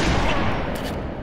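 A burst of rapid gunfire in the SWAT video game, loud and close, with sharp repeated shots crowding together over about a second, and no voices.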